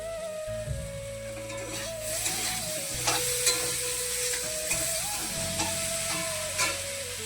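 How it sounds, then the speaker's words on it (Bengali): A single large eggplant frying in oil in a kadai: a continuous close sizzle with occasional clinks and scraping stirs, and a faint steady hum running underneath. "বেগুন ভাজা করবো একটাই করবো"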